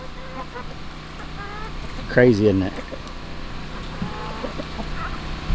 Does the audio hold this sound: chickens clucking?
yes